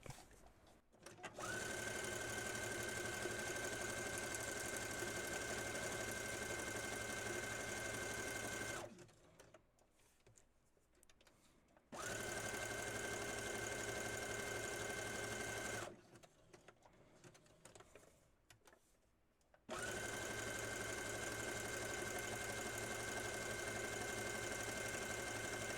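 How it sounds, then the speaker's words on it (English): A sewing machine stitches a zigzag seam along paper journal cards, running in three steady sustained bursts with a constant whine, separated by short quiet pauses. "now we're going to stitch it, and I'm going to start at the bottom, and I'm going to do a zigzag today"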